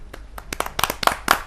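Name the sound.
audience applause for a poet at a poetry gathering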